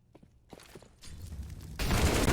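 Counter-Strike gunfire in a competitive match: scattered footsteps and light shots first, then a dense, sustained burst of rapid firing that swells loud toward the end.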